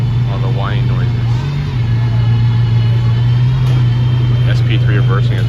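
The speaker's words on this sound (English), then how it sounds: "That's what the Valkyries sound like." Aston Martin Valkyrie hypercar engine at Goodwood 2024, a loud, steady, droning tone held throughout with a slight swell partway, under crowd chatter and voices.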